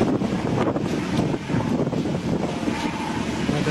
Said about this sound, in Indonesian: Angin kencang arah selatan.